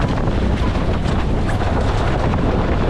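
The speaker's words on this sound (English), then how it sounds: "It is getting a bit windier." Constant, heavy wind buffeting a microphone while windsurfing on an iSonic board, a loud rushing roar that never lets up, with faint water wash underneath and no voices.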